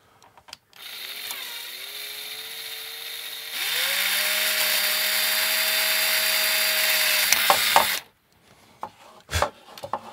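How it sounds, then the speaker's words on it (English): A power drill with a step bit widens holes in a case for a C64 synthesizer, a steady whining grind that rises in pitch and loudness partway through, then stops abruptly. "use a step drill to widen the holes"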